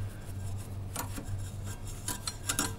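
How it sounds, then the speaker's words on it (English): A small brush sweeps coffee grounds around the inside of an espresso machine, giving quiet, close scratchy rubbing strokes in short bursts over a steady low hum. "with the little brush, we can just get in around these sections and just all throughout, just brushing those coffee grinds down to the bottom"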